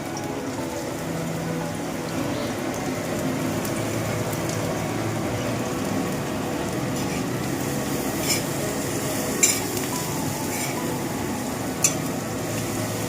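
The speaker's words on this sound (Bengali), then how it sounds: "এই যে মাংসর মশলা কষছে" Spiced masala for meat cooking in a pan, a steady low sizzle and bubbling with occasional faint scrapes of stirring, continuous and fairly even throughout, no voices.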